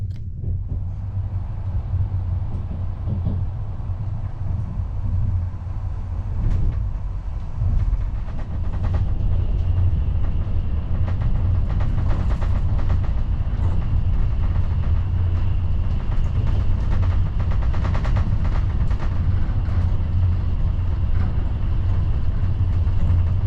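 A RegioJet loco-hauled passenger train rolls into Hegyes station in Hungary, its low engine rumble and rail noise steady, with wheel clatter and rattling growing louder toward the end; no one speaks.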